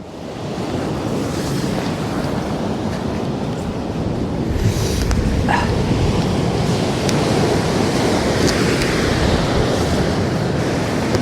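Surf breaking on North Donmouth Beach in Aberdeen, a constant loud wash of waves with wind buffeting the microphone, steady throughout and no speech.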